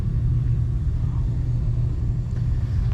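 A Sears Suburban SS15 lawn tractor engine with a completely blown-out muffler runs steadily up close, giving a loud, continuous low rumble with no talking.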